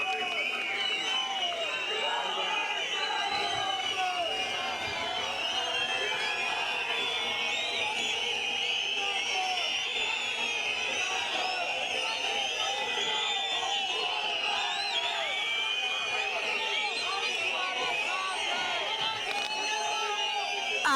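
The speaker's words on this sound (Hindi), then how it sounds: "जोरदार तालियों से स्वागत करें" A large outdoor crowd at a political statue-unveiling ceremony in Shimla welcomes a speaker, with a continuous dense roar of cheering and clapping and many voices mixed in throughout.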